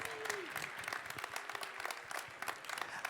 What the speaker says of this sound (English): can we have a big round of applause for everybody